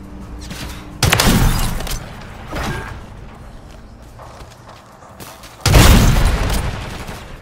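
Video game explosions and gunfire in a search-and-destroy match: two loud, sudden booming blasts with crackling tails, separated by scattered shots and mechanical clatter, with no voices.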